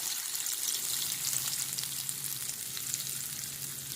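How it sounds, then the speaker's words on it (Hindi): Steady, bright sizzling of hot oil tempering poured over palak paneer, a continuous crackle close by with no talking. "और इस पर अब हम लगाने जा रहे हैं तड़का।"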